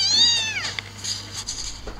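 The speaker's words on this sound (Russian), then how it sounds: "Он только его посадишь, он начинает мявкать." A small kitten in a box lets out a high, thin meow near the start, then gives softer mews and faint rustling, close and fairly quiet.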